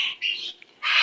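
A pet bird lets out harsh, loud squawks up close: two quick calls, a short pause, then one longer squawk.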